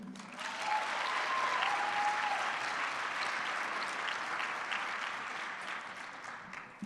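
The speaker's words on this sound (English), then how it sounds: "Let's keep the applause going for Jasenia, Vice President of Student Affairs at Brookdale Community College" Sustained applause from an audience at a New Jersey community college student leadership summit, a dense, steady wash of many hands clapping that holds evenly for several seconds and tapers slightly toward the end.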